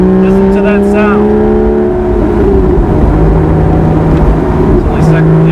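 Porsche Boxster Spyder engine accelerating on the road from inside the car, a loud droning growl that rises in pitch through the gears, dips at a shift, then climbs again, with someone talking over it.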